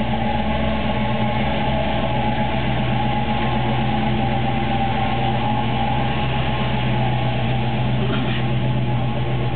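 A solid lifter V8 car engine fitted with Flowmaster exhausts runs steadily with a deep, loud, continuous rumble throughout, no voices over it.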